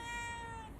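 A single drawn-out, tonal cat meow sounds close and clear, fading slightly at the end, with no talking.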